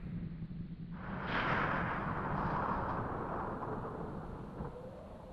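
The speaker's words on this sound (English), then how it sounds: "There's a storm coming, friend." Thunder from an approaching storm rolls in as a deep, broad rumble that swells after a second and slowly fades, heavy and moderately distant with no voices over it.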